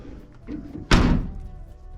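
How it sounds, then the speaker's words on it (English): The door of a Chevrolet C20 squarebody pickup, freshly sprayed with WD-40, swings shut with a single solid thunk at close range after some faint creaking movement. "I throw some WD on the doors. Look at how easy this shuts."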